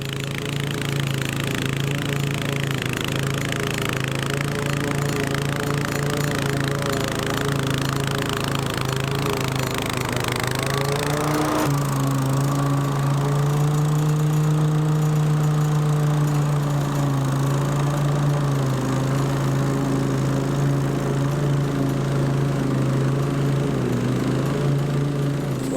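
Lawn mower engine labouring and bogging down as it cuts through very thick grass, a loud continuous drone whose pitch sags and wavers midway as the load increases, with no talking.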